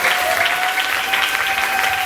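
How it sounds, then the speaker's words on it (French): Church congregation applauding and cheering for the Lord during a French-language Christian sermon, a dense, steady wash of clapping that fills the space with a sustained tone beneath it. "Est-ce que tu peux acclamer pour le Seigneur?"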